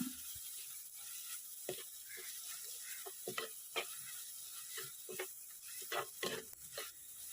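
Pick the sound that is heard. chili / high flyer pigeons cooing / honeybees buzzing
chili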